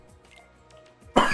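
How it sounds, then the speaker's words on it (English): A single sharp cough bursts out close and loud at the very end, after a moment of faint background sound. "apologies for the coughing"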